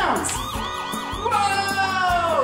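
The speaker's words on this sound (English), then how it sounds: "these sirens even light up and make sounds." A toy police car siren wails in rising and falling electronic loops, loud and close, then changes to a different steady warbling tone partway through.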